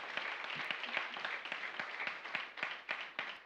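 A church congregation at a Marathi worship service claps in praise, a fairly faint, roomy sound of many hands striking together in a steady, regular rhythm.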